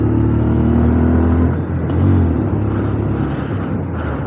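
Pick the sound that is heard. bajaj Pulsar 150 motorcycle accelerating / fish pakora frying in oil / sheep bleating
bajaj Pulsar 150 motorcycle accelerating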